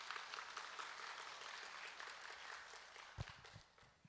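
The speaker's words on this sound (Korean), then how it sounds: "박수로 맞이해 주십시오." Audience applause welcoming a presenter from the Seoul city planning department at a residents' briefing, a dense, fairly distant patter of many hands that thins out toward the end.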